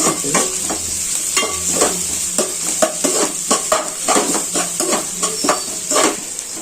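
Egg noodles being stirred and fried in a pan, a spatula scraping and clinking in quick, repeated strokes over a steady close sizzle, with no talking.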